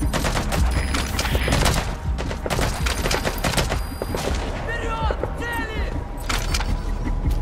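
Dense gunfire and rapid bursts crackle in Metal Gear Solid V: The Phantom Pain during a Mother Base extraction, loud overlapping shots with chirping radio-like tones near the end and voices underneath.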